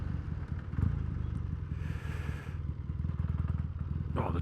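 A Triumph Bonneville T140V motorcycle with new exhaust pipes potters along in second gear, its engine thumping in a steady, close, rhythmic beat under light wind rustle.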